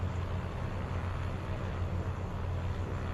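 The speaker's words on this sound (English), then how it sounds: "Nice little sounding engine pack." A modded aircraft engine in Microsoft Flight Simulator 2024 drones steadily with a low, even hum, heard alone for a few seconds with no talk.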